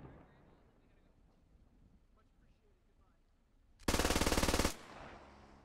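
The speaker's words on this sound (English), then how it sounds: "It is an MG42." An MG42 machine gun fires one rapid, loud burst lasting under a second in the video game Squad Ops, following quiet ambient game sound.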